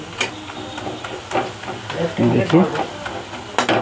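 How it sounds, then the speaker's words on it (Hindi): Chicken pieces fry in a pan with white and black pepper, crackling and sizzling close up while being stirred with scraping, knocking strokes, and a voice speaks briefly over it. "इसको हम अच्छा फ्राई कर लेंगे।"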